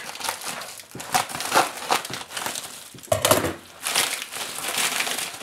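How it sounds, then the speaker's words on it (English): Scissors slice open a FedEx pack lined with bubble wrap, giving close, loud crinkling and crunching plastic noises in irregular bursts with no pauses. "let's take the scissors here and cut open the pack"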